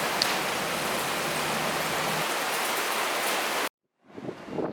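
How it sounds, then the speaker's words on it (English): Steady rain hiss pours down at Fort Siloso, Singapore, for a few seconds, then cuts out abruptly before a softer wash of noise returns. "because of the rain falling from the sky"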